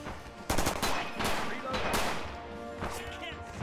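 Rapid bursts of automatic and semi-automatic gunfire from American weapons near a sugar mill in Red Orchestra 2, loud, close cracks and rattling volleys overlapping a distant battle din, with a voice talking over it.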